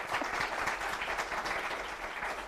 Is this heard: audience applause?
yes